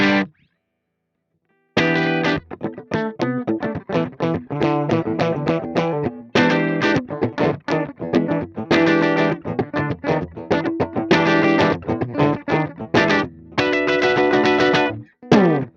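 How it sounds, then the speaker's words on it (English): After a brief silence, a dry, distorted electric guitar, a Gibson ES-339 with no reverb, plays choppy, rhythmic chords with short gaps between phrases, loud and upfront without lingering echo. "now if I go for something with no reverb on it"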